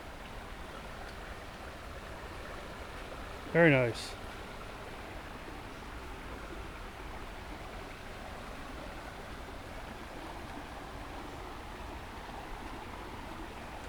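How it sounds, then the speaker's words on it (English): Steady broadband rush of a creek flowing along a Maryland park trail, constant and moderately near, with a brief spoken remark over it partway through. "down this trail to this other very nice creek they have here"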